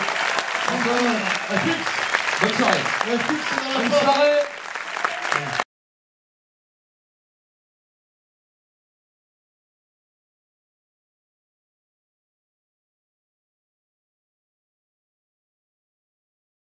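Audience applause for stage performers Judith Elzaï, Alice Paul, Guy Lecluise and Danny Boone, a steady crowd clapping that fills the clip, with voices talking over it throughout.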